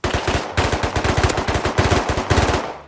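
Rapid automatic gunfire in the survival game Rust, loud and close, sustained bursts of quick repeated shots with only brief gaps across nearly three seconds.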